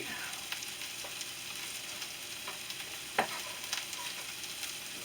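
Angus sandwich beef for a Philly cheesesteak sizzles steadily on a hot surface while being stirred, a constant frying hiss broken by occasional scraping clicks and one sharper clatter, close and without talk.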